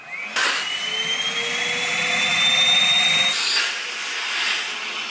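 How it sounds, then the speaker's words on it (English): A Henry Cordless HVB160 vacuum cleaner switches on and runs on high, a steady, loud whining motor drone with a rising tone that holds evenly, with no voices. "So we're going to test the working vacuum on high on the Henry."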